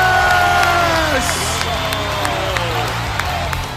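A large arena crowd of about 5,000 at a sports festival cheers, whoops and applauds in a standing ovation, loud and continuous throughout with dense clapping.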